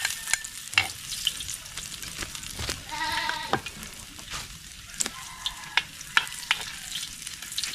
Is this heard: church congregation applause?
no